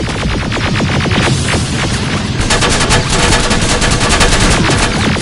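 Rapid machine-gun bursts and dense gunfire from the Terminator Resistance video game, loud and continuous throughout with overlapping shots and a steady rattling rhythm.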